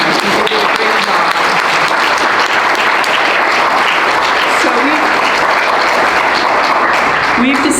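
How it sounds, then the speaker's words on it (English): A crowd at a Braddock District supervisor candidates' forum breaks into sustained loud applause, dense clapping that holds steady throughout with a few cheers and murmured voices mixed in. "let's applaud them again, because I think they did a great job"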